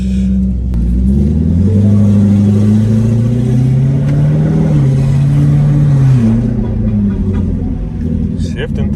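A turbocharged 2018 Coyote-engined car with a 10-speed transmission pulls hard on a test drive, its engine note climbing and dropping through successive gear shifts, loud and close throughout.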